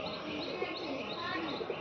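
Pigeons kept by a pigeon fancier cooing softly, a low continuous murmur of calls at a steady, fairly quiet level.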